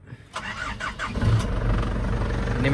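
An Isuzu Dragon 2.8 turbo 4x4 pickup with a rebuilt pump cranks briefly, catches and settles into a steady, close, rumbling idle.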